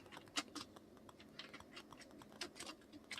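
Quiet, irregular computer keyboard typing, a run of light clicking keystrokes with short pauses, as name details are entered into an online national ID form.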